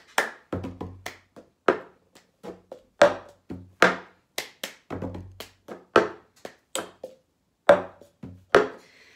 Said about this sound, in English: all you need is a cup and you wanna start with it upside down